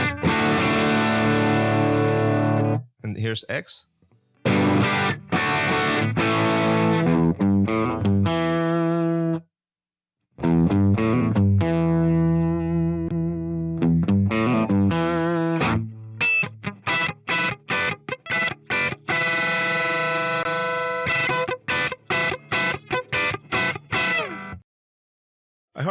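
Electric guitar tone from a Fractal AX8 amp and cab modeler, heavily distorted, with chords and single notes played in phrases separated by brief pauses, then a run of quick staccato stabs near the end.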